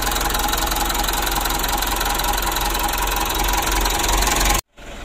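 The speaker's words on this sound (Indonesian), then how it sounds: "Ya untuk mesinnya masih kita panasi ya." A car engine idles steadily while warming up, a hard-starting motor with a fault, running loud and even with a faint knocking rhythm before cutting out abruptly near the end.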